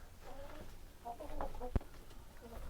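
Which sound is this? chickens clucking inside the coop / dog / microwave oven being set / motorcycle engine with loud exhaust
chickens clucking inside the coop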